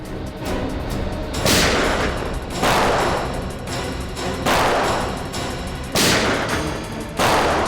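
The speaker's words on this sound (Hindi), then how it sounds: "यहाँ फायरिंग हो रही है" Five loud gunshot blasts ring out at a slow, uneven pace, each with a long echoing tail over a constant noisy background.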